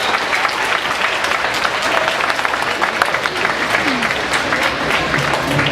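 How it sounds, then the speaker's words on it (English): Sustained audience applause fills the room as a dense, even wash of many hands clapping at once, steady and loud from start to finish. "And so give them a round of applause."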